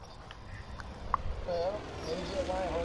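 A horse's hooves clip-clop in Far Cry 5 video game, a short, moderately loud run of hoofbeats over faint game ambience.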